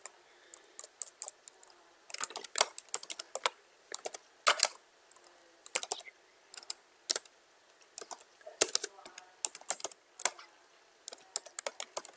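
Someone types on a school laptop keyboard in quick bursts of crisp, close key clicks with short pauses between them, and no one speaks.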